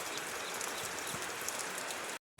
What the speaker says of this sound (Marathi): पाऊस आत्ता तर खूप मोठा चालू आहे.